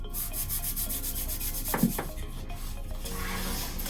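A painted craft project on a board is rubbed down by hand, a continuous close scrubbing and rubbing with a brief louder scrape partway through.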